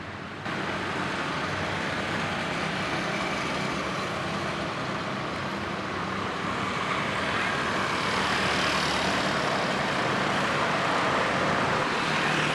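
Steady road traffic of motorbikes and cars flows along a single lane in Ponorogo, a continuous broadband rumble of engines and tyres that stays moderately loud and even throughout, with no clear talk.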